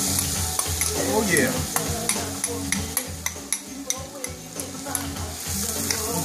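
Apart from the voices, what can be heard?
onions frying in coconut oil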